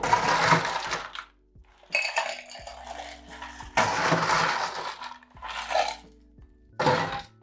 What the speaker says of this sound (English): What we're going to do now is add ice to both of these.